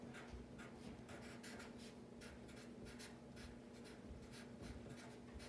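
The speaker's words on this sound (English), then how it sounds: "I want to write a little note." A pen scratches out a short handwritten note, quiet close-up strokes in an irregular rhythm over a faint steady hum, with no voices.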